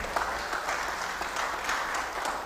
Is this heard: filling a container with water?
no